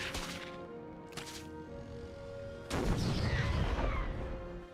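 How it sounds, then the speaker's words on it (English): A grenade exploding in a StarCraft 2 match, a sudden loud boom with a rumbling burst of debris that follows a few sharper earlier impacts, close and dominant. "grenade goes down"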